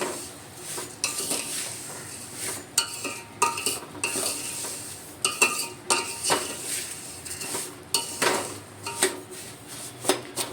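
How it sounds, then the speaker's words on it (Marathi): Sugar being stirred into vermicelli kheer in a metal pot, a steady run of spoon scrapes and clinks against the pan with a faint sizzle beneath, close and without talk. "जसं मी पहिलं टाकते साखर 1 वाटी, आणि व्यवस्थित हलवून घेणार आहोत."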